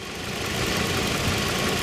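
A Toyota Camry engine idles steadily nearby, shaking too much at idle, a continuous low rumble with a faint uneven vibration and no voices.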